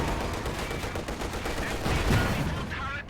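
Rapid bursts of gunfire from tanks and infantry in a World War II video game battle, including a T-34-85, crackle continuously at moderate loudness, dense and overlapping.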